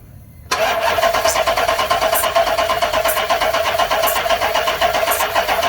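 A 2013 Dodge Charger with a 5.7 Hemi V8 cranks steadily on the starter after a brief quiet moment, a loud rhythmic churning that continues without catching for several seconds.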